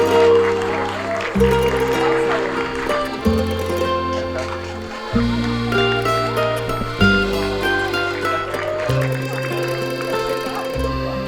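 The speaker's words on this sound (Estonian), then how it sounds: "Teeme teile suure aplausi." Sustained applause from a large outdoor audience at the opening of the Käsmu forest stage, fairly loud and continuous for the whole stretch, over a low steady tonal background.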